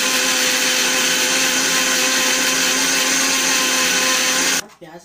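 A mixer grinder grinding onion and garlic whirs loudly and steadily for several seconds, then cuts off abruptly near the end.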